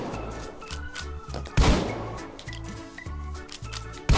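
A shotgun fires in the VR game Hot Dogs Horseshoes & Hand Grenades, with sharp, loud blasts standing out over a rhythmic, pulsing background.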